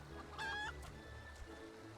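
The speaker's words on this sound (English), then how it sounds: "I tamed a rooster and painted it green" A tamed rooster in the Final Fantasy XIV video game gives one short, clear clucking call, faint against a low game background hum.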